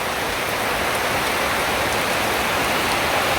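Steady rain pouring down with a rain-fed waterfall rushing nearby, a dense continuous hiss that stays loud and even throughout with no voices.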